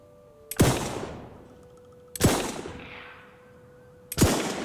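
Three loud single gunshots ring out in the Alaska Gold Fever video game, each sharp crack followed by a long decaying echo, spaced about two seconds apart over faint background tones.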